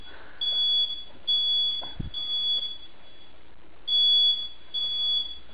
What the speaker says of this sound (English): Once again, we got the fire alarm going off.